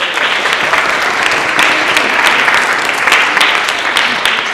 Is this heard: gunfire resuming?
no